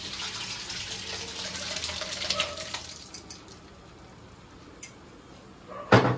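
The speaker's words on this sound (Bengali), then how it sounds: "এবার তরকার ডালটা ঢেলে দেবো" Cooked lentil dal pours into a pan of fried spices in a home kitchen, a loud wet gushing splash for a few seconds that fades to quiet, ending with a sharp clatter.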